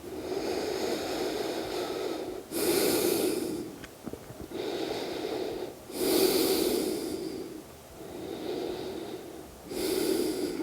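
Slow, deep breathing while resting in a crocodile yoga pose, with loud, close, airy inhales and exhales alternating in an even rhythm over about four full breaths.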